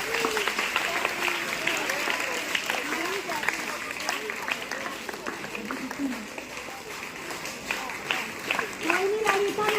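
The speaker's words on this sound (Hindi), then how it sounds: "तालियों के लिए कहना तो नहीं चाहिए हर बार।" Students and guests at a school honour ceremony clap steadily for their teachers, a sustained crowd applause of fairly even loudness across ten seconds, with voices talking and calling out over it.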